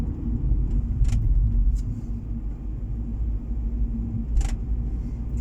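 Car traffic circling a roundabout on boulevard de Strasbourg, a steady low rumble of engines and tyres with a swell as vehicles pass near, plus a couple of short sharp clicks.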